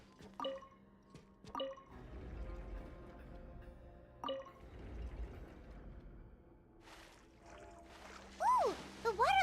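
Water rising and flowing after a mechanism is activated in the Genshin Impact video game: scattered drips and clinks over a soft rushing swell, then brighter watery sweeps near the end, fairly faint overall.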